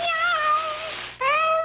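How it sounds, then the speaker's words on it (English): A cat meows in two long, loud, clear cries, the second following a brief break, heard close and on its own in a 1980 Meow Mix television commercial. "It'll have a lot of cats practicing their meows"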